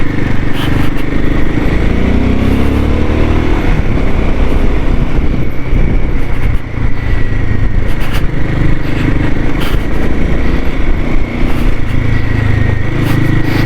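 A motorcycle is ridden along a mountain road on the way to Adi Kailash, its engine a steady drone buried in heavy, continuous wind rush for the whole stretch.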